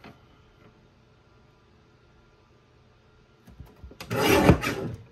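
A paper strip for a handmade Christmas card being trimmed on a paper trimmer, with a brief rasping slide of the blade near the end after a quiet stretch.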